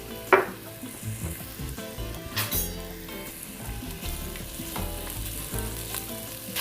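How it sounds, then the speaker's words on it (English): Onions sauté in a pot for steak chili, giving off a steady, close sizzle broken by occasional utensil clinks and stirring scrapes, with no voices. "While the onions are sauteing"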